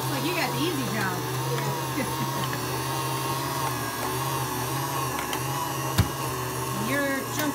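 Electric meat grinder grinding beef during home butchering: a continuous whining motor hum holds steady throughout, with voices talking over it.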